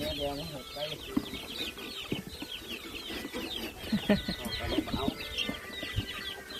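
Chicken chicks in a chick nursery keep up a busy chorus of high peeps and soft clucks at close range, with faint voices now and then underneath.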